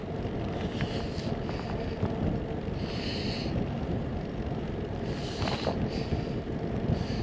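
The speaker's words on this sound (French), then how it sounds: "Un petit peu de vent, un vent de face léger là." A light headwind buffets the microphone during a long ride in France's Saône area, a steady low rush with faint gusts swelling now and then and no talking.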